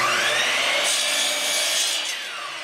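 A saw cuts steadily through wood with a continuous, close, raspy grind that fades slightly toward the end, with no voices.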